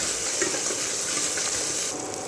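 Onions frying in a pan for Indian egg gravy, a close, steady sizzle with faint crackles and no talk.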